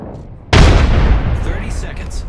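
A frag grenade in a video game goes off with a sudden, loud, close boom that rumbles and slowly fades out over a second or more.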